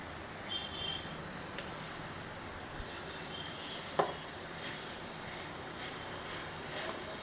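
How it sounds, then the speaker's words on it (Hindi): Tomato puree hitting a hot pan on a home stove, giving a soft, steady sizzle with faint crackles and one sharp clink midway, fairly quiet and without talk. "सो अब हम डालेंगे अपनी टमाटर प्यूरी।"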